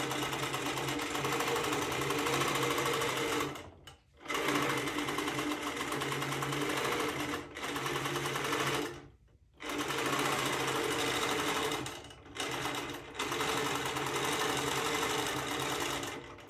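A sewing machine with a built-in stitch regulator stitches a quilt, running in steady loud bursts of dense mechanical whirring with a few brief pauses between runs.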